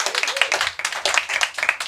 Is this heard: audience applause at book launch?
yes